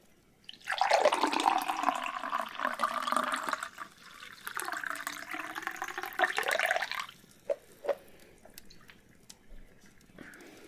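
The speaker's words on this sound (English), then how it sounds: "I'm going to pour your tea first." Tea poured from a pot into a cup in a quiet room, a continuous splashing trickle for several seconds that rises in pitch as the cup fills, then tapers off into a few soft drips and clinks.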